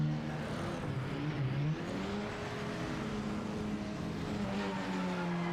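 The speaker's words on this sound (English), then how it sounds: "build up the revs, and I have to shift to first race room style" Race car engine revving in the Project Motor Racing sim, a steady rising and falling whine with clear harmonic bands, held up close and loud throughout with no talk over it.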